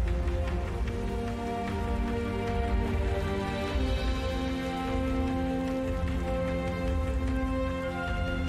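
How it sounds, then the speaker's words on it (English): Acid rain falls in StarCraft 2: Wings of Liberty, a steady dense patter of raindrops blended with sustained tonal game music, continuous and fairly loud with no talking. "Acid rain."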